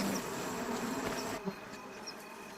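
A dense, close drone of many bees buzzing at a hive being raided by a honey badger, with individual insects whining past and fading, no voices.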